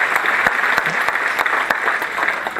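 Loud, sustained audience applause fills a stand-up comedy show, dense crowd clapping with scattered sharper claps throughout, no talking over it.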